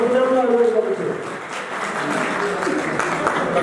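Audience at a Nepali Congress party convention in Tokha clapping to welcome a speaker to the stage, steady applause running throughout, with talk heard over it at the start.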